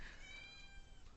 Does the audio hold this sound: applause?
no